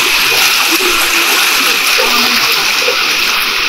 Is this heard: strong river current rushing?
yes